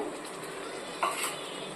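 Two hundred grams of stingray pieces go into spiced masala frying in separated oil for a pepper fry, giving a steady close sizzle with a brief louder splash of frying and stirring partway through.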